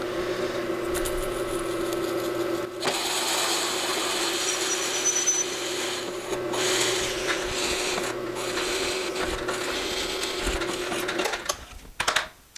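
Hole saw boring through wood to cut toy wheels, a steady grinding, rasping drone that runs for about eleven seconds with small shifts in pitch, then winds down and stops, close and fairly loud, with no talking.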